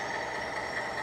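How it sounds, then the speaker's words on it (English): An Alco diesel locomotive sound plays from a Tsunami decoder in a model train, giving a steady, low idling rumble with no talking. "I want you to hear this engine, Tsunami decoder,"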